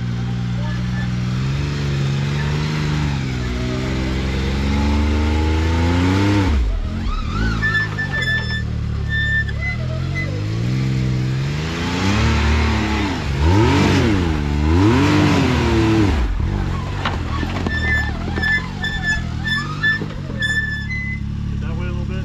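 An off-road vehicle on stock axles with a stock locker climbs rocky trails at an OHV park, its engine revving and surging in loud rising and falling waves under continuous nearby talk.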